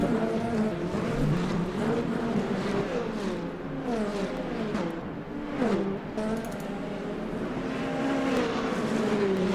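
Engine drone of an LMP2 race car at Monza in Le Mans Ultimate, with a Peugeot prototype nearby; a steady, loud high-revving whine with rising and falling pitch sweeps through gear changes, continuous throughout.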